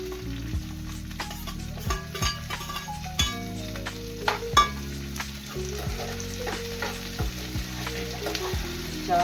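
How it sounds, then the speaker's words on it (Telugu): Ivy gourd (tindora) pieces stir-fry in a pan with ginger-garlic paste and curry leaves, making a steady close sizzle broken by repeated scraping stirs, with no talking. "ఇప్పుడు మనం దొండకాయలు వేసేసుకుంటాం."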